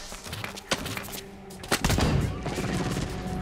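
A single-shot gun in the first-person shooter Blacklight Retribution fires a few sharp reports amid other gunfire and impacts, loud and close, with the louder shots grouped in the second half.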